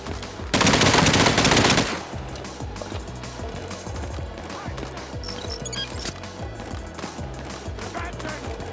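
Gunfire in the VR shooter Espire 1: a loud, dense burst of rapid automatic shots for about a second and a half, then quieter game sounds and scattered effects continuing underneath.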